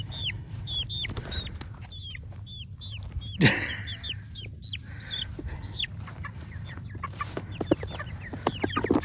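Several chickens in a chicken tractor cluck and chirp in short repeated calls over a low background rumble, with a brief rustling clatter partway through.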